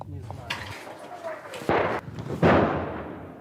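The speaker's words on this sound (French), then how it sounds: "C'est l'artillerie ennemie. Ils ont des canons de 122 mm." Enemy artillery from 122 mm cannons booms in a battlefield setting, with two heavy blasts rolling out after a few smaller distant thuds and pops, moderately loud.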